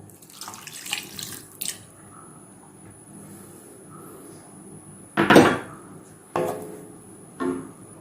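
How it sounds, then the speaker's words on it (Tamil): Milk pours from a cup into a pan of grated carrots for carrot halwa, a short splashing gush near the middle, with quieter trickles and light clatter around it. "இப்போ இன்னொரு கப் நம்ம ஊற்றுறோம்."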